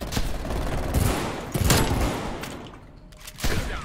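Rapid automatic gunfire in the video game Black Ops Cold War, dense bursts of shots crackling continuously over a few seconds, loud and close, with no talking.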